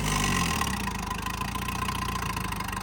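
A tractor engine runs steadily under load in high gear while leveling a wet field with a plank leveler, giving a loud, continuous, close drone with no pauses.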